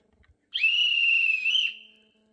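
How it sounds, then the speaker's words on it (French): One long, shrill station master's whistle blast from a model train sound module, held steady for about a second, then trailing off in a reverberant echo. "Ça, c'était les sifflets chef de gare."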